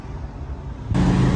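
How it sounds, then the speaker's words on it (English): A truck's auxiliary power unit runs loud and steady, a constant rumbling engine drone that grows a little louder and brighter partway through, with no talk. "This is by far one of the loudest APUs I've ever heard."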